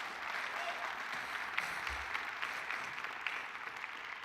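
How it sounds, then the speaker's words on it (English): At a high school jazz band spring concert, the audience applauds the stage crew, steady, moderately loud clapping that holds evenly throughout with a faint voice or two underneath. "Please give them a good round of applause"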